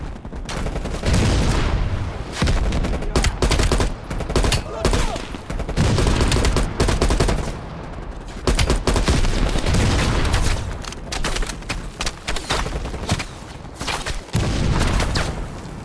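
Shotgun fire in Call of Duty: Black Ops Cold War, with loud repeated blasts and bursts of gunfire from the game's battle, mixed with explosions and heavy, dense action noise.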